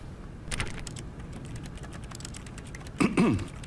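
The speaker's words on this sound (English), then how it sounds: "I'm just gonna keep clicking it" Repeated clicking while playing The Stanley Parable, heard as quiet, sparse keyboard-like taps and clicks over a low background hiss, with a slightly louder cluster near the end.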